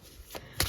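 Decks of cards are shuffled in two quick riffling bursts less than a second apart, close and fairly quiet.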